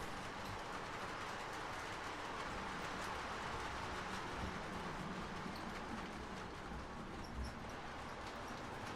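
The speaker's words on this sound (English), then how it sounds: "you guys are running trains again" Faint, continuous rumble and clatter of model trains running on track, a steady low mechanical whir with occasional light clicks, no voices.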